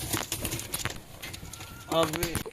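A restless pigeon being caught and handled, with scuffling wing flutters and a short coo near the end, heard close and under a person talking.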